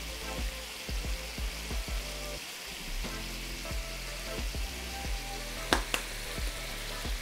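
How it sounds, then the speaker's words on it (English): Sausage cooking in a pan with oregano and parsley gives a steady, soft sizzle under a low hum, with rhythmic scraping or stirring knocks and two sharp clicks near the end. "We're gonna keep cooking this until most of the moisture evaporates"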